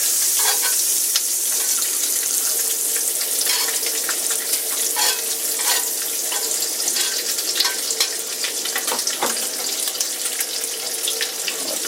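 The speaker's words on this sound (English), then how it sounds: "Melting some butter." Butter sizzling in a cast iron pan, a loud, dense crackle with scattered pops and spits running steadily throughout, close up and without speech.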